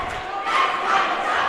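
Boys high school basketball crowd at a Bear Lake versus Grace game in Idaho, voicing a sustained disapproving roar of boos and shouts that swells midway and holds steady throughout.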